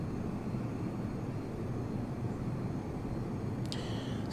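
A steady, fairly loud airplane engine drone in the Prepar3D v2 flight simulator, flying around New York City, holds constant throughout with a brief faint clicking near the end and no talking.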